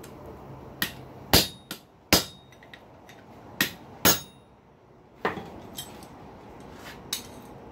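A hammer strikes a punch through steel on an anvil while forging a simple pintle hinge, giving a series of sharp ringing metallic blows, irregularly spaced and close, with quiet pauses between strikes.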